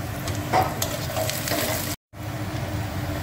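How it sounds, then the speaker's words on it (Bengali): Onions fry in a pan for noodles, with a close, steady sizzle and stirring scrapes and a brief drop to silence partway through. "আর এখানে পেঁয়াজ ভাজাটা বসিয়ে দিয়েছি।"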